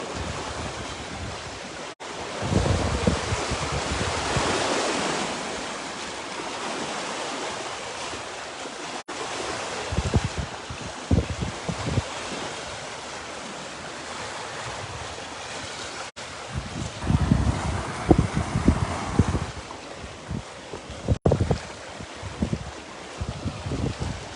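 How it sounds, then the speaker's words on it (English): Wind and ocean waves breaking on a cold, raw shoreline where fishermen are out in the morning, a steady broadband roar with surges of surf and gusts buffeting the microphone throughout. "Wind and cold and water and waves."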